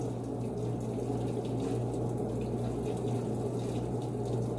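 Water pours steadily into the drum of a Panasonic 14 kg washing machine during a wash of dark clothes, a constant close rushing flow over a low machine hum, with no talking.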